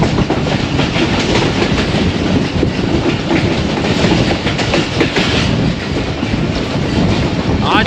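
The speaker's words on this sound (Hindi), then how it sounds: "खूबसूरत बकड़ाला रेलवे स्टेशन और अब सामने नज़र आने वाले पहाड़ों पे चली जाएगी ट्रेन" The 101UP Subk Raftar passenger train runs near Bakrala railway station in Pakistan, a loud, steady rumble with continuous clickety-clack of wheels over rail joints, close by and unbroken throughout.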